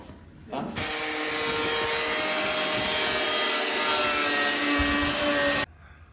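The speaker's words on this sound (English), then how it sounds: "we're just trimming this dash up little by little, just easing it into the hole" A loud, close power tool grinds or sands steadily for about five seconds while a dashboard panel is trimmed to fit the cockpit of a Pro Mod race car build, then cuts off sharply.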